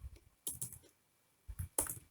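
Someone types on a computer keyboard while coding, making two quick, quiet bursts of clicking keystrokes separated by a short pause.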